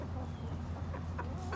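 Small bantam chickens cluck softly in a yard, with a few short clucks near the end over a steady low background hum.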